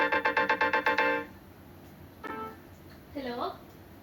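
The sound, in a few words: phone ringtone, incoming call from food delivery partner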